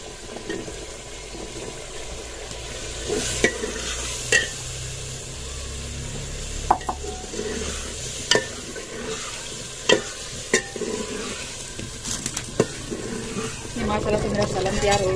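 Potatoes stirred into a frying pea masala in a home village kitchen, a continuous sizzle with wet stirring and sharp spoon knocks against the pot, and someone talks over it at times.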